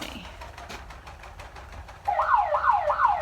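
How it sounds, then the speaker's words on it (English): Outside alarm siren on a poultry farm during a test, a rising and falling wail that starts suddenly partway through and repeats in a steady cycle over background machinery noise. "So that's what the outside alarm sounds like"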